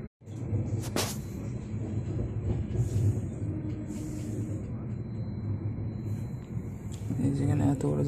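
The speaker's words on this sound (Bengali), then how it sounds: "রেল লাইন ক্রসিং হচ্ছে, এখন" A train rolls over crossing rail lines near Nagpur and changes tracks. Heard from aboard, it makes a continuous close rumble with occasional clunks and a sharp metallic knock, under faint background voices.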